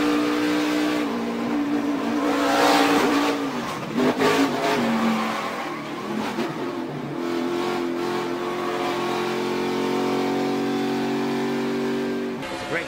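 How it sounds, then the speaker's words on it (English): A NASCAR race car's engine roars and revs from onboard as it slowly spins out with the rear tires losing grip, loud and continuous with shifting pitch and a brief burst of tire noise midway. "Just a slow, steady spin where the back tires just didn't want to grip."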